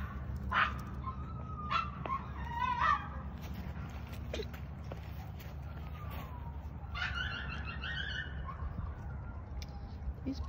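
Several young puppies whimper and yip in short, high-pitched bursts scattered across the clip over a steady low background hum, with no clear talking.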